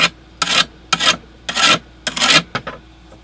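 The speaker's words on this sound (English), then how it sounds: "I'm gonna throw that on here because it's got the ceramic rod, and I'm just gonna run that on there" A ceramic sharpening rod strokes the edge of a Ryobi lawnmower blade to remove the burr, giving five or six distinct, close raspy rubbing passes with short pauses between them.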